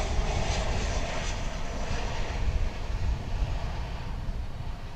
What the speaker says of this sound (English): It's American Flight 1034 coming in from Guadalajara in Mexico